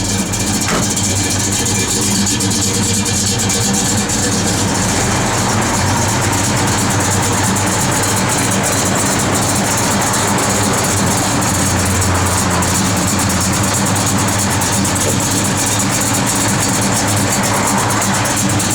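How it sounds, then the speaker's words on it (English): A 1971 Chevrolet Chevelle SS engine idles steadily, a loud, continuous low rumble with a constant broadband exhaust roar, no talking over it. "Car's got a great sound to it."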